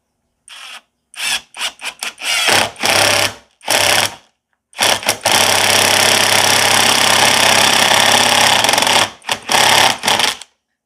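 A brushless impact driver set to its lowest speed drives 2-inch screws into wood, with short stuttering bursts followed by one long continuous run of loud, close motor whir and hammering, then a few brief final pulses.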